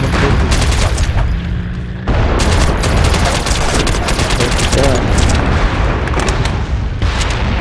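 Rapid AK-47 rifle gunfire in the online shooter MAG, dense bursts and booming shots rattling almost without pause, with a short lull near two seconds before the firing resumes loudly.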